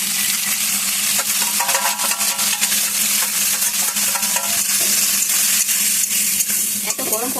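Okra fries in a little oil in a pan, producing a loud, dense, steady sizzle close to the microphone, with faint stirring scrapes and a low hum underneath.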